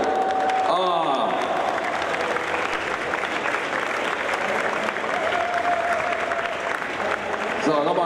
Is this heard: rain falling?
no